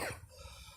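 A cartoon character gives one short, soft cough, quick and close, followed by faint background hum.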